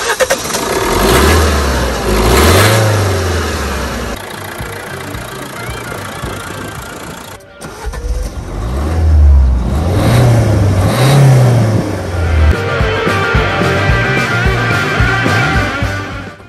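A Fiat 500 S with a 1.3 Multijet 95 hp diesel engine cranks and starts, revs up, then settles into a steady idle, recorded close and loud with a brief pause and a second run-up partway through.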